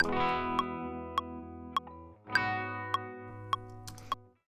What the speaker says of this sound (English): you'll hear this like sort of pitch variation right within the end of the guitar, each chord here